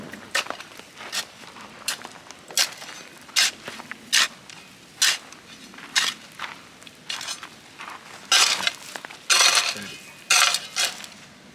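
Manure and soil stirred together in a bucket with a small tool while planting dragon fruit, a repeated pattern of short, close scraping and rattling bursts.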